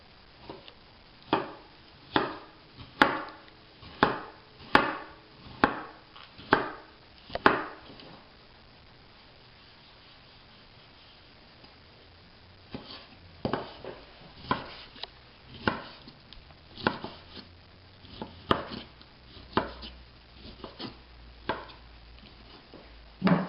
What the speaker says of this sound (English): And then we're going to go ahead and chop it.